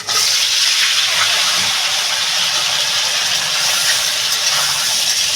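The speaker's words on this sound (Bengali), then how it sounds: "তেলটা আমার গরম হয়ে গেছে আমি এই কাঁকড়াটা সম্পূর্ণ কাঁকড়াটা একসঙ্গে ঢেলে দেবো" A whole crab hits hot oil for a Bengali crab gravy, setting off a loud, close, continuous sizzle and hiss that holds steady throughout.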